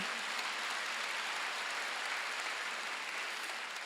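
A church congregation applauding during a Sunday worship service, dense and even clapping held at a steady level from start to finish, with no voices over it.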